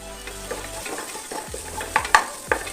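Tomatoes frying in a pan for a chicken liver curry, with a soft steady sizzle under scraping stirs and a few sharper utensil clinks against the pan near the end; no talking.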